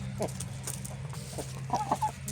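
Short, soft clucks from a hen repeat in scattered bursts over a steady low hum, with a few sharper calls near the end.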